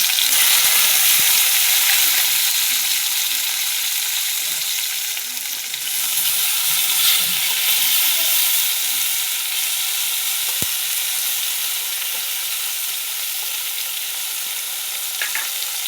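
Chopped tomatoes and panch phoron frying in oil, a loud, steady, close sizzle that fills the whole stretch, with occasional stirring and one sharp tap, no voices.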